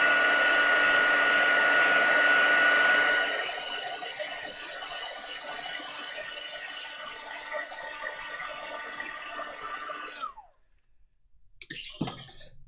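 A hair dryer blows loud and steady close by as it dries an artificially aged paper envelope, easing to a lower hum after a few seconds, then cutting off abruptly near the end, followed by brief faint rustling.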